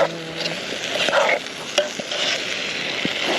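Cooked vegetables stirred and warmed together in a hot pan, a close steady sizzle with repeated scraping strokes of the utensil and a few knocks, no talk.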